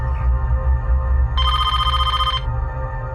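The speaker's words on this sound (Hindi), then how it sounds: "मैं फोन करती हूँ शालिनी को।" A telephone rings once while a woman calls her friend Shalini in a Hindi crime drama scene, a single loud, close burst of trilling bell lasting about a second over a low background hum.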